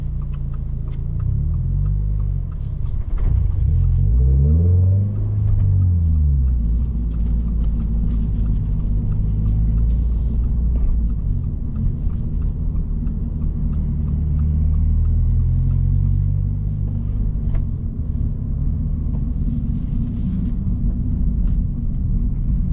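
A 2024 Toyota GR86 with a manual gearbox driving, a loud steady engine drone and road rumble from inside the cabin, with the pitch rising and falling as it revs through gears, and no talking.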